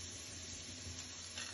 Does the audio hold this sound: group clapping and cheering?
no